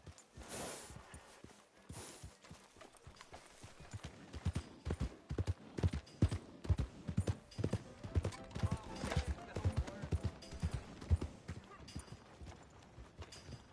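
A mare in the video game Red Dead Redemption 2 clip-clops along at a walk, her hooves striking in a steady rhythm that grows louder after a few seconds, with occasional talk over it.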